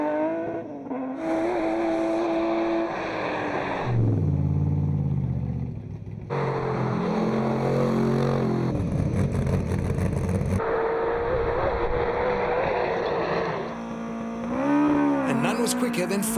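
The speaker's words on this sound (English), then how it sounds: "But there were some really rapid cars up the hill." Racing car engines, including a Chevron B19, roar and rev hard at the Simola Hillclimb, climbing through gear changes one after another, loud and close, with a voice talking over them.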